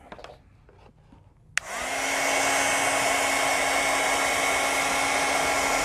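Heat tool switches on with a click and blows steadily, a loud continuous whooshing hum with a whining tone, warming a craft piece after quiet rustling beforehand.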